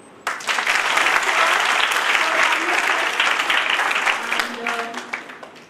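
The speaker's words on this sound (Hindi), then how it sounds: "एक बहुत जोरदार तालियां हम सब के लिए" A large audience at a motivational talk breaks into loud, sustained applause that starts abruptly and holds steady, with a few voices calling out faintly beneath it before it eases slightly at the end.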